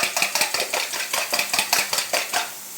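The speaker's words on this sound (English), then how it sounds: "Give it a whisk up like that till it's all combined." A fork whisks a mixture in a bowl, making a quick, even rhythm of close, bright clinking taps against the dish, with no voices.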